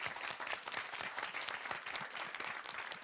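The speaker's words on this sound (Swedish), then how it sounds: "Jag får en applåd där" A live audience at a panel debate on insecurity in Uppsala claps steadily, a dense, even roar of many hands that holds for a few seconds.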